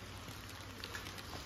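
Rain falling steadily outdoors in Odisha, a soft even hiss with scattered faint drop patter, continuous and fairly quiet.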